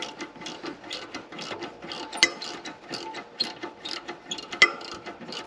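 Wrench clicking and ratcheting on a turbo V-band clamp of a 2017 Ford 6.7 Powerstroke diesel, a steady run of close, fast metallic clicks with a couple of sharper knocks.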